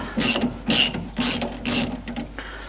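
Ratchet wrench loosening leaf spring bolts on an MGB suspension, heard as four close, loud bursts of rapid clicking with short pauses between them.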